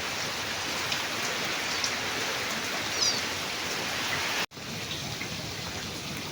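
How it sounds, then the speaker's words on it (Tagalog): Heavy rain pours down steadily as a dense, loud, even hiss of drops on surfaces, with a momentary cut near the end before the downpour resumes. "Lakas ng ulan."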